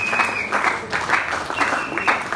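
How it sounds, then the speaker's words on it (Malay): Steady applause from an audience at a weekly company meeting, continuous clapping from a room of people that swells in brief waves, with a voice speaking over it. "Tepukan terus lah."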